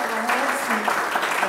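Applause from a startup talk audience, a brief burst of clapping with some voices mixed in, steady and fairly close throughout.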